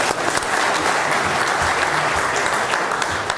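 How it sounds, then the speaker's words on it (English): An audience at a real estate mindset seminar breaks into steady, dense applause that carries on without a break through the whole stretch, loud and close, with no voices rising above the clapping. "Give him another round of applause."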